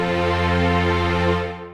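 Sustained string-section chords from a Logic Pro X string track, a single full, steady chord swelling slightly before fading out near the end, with no voices.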